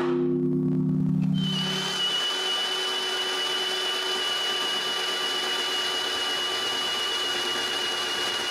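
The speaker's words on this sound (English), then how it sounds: "I mark the placements for the new holes and drill them" A drill bores holes in metal to mount a new compressor motor. A low hum opens, then a steady high-pitched whine and gritty cutting noise continue close by, with no talking.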